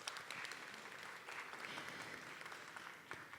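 Audience applause at a panel during the Mtn Craft Film Festival, a continuous spread of many hands clapping, steady and fairly quiet with a few sharper individual claps, no speech over it.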